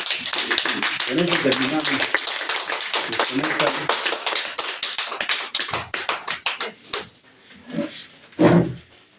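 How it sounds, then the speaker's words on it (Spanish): Congregation in a church clapping hard and fast for several seconds, a dense patter of hands that thins out, followed by someone speaking Spanish. "Dale un aplauso a Jesús."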